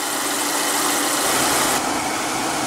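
A 2015 Audi Q3, paired with a six-speed automatic, idles steadily just after starting, a constant, even engine hum and broadband hiss with no speech over it.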